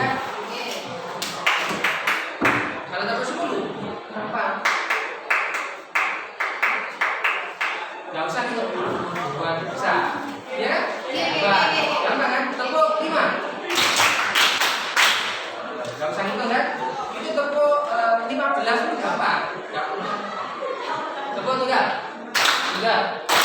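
A school class in a mathematics lesson claps the longer 'tepuk 10' pattern, with bursts of sharp group claps scattered through a noisy stretch of classroom voices and laughter.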